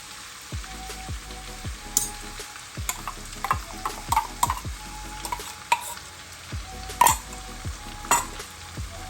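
Ground onion paste frying in a pan for an Afghani malai seekh kebab gravy: an even sizzle broken by frequent metallic scrapes and clinks of a spoon stirring, close and fairly loud.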